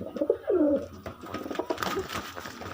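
Caged Giribaz, Madras, Kalanka and Kagji pigeons give a couple of loud, close rolling coos at the start, then quieter scattered rustling and faint calls follow.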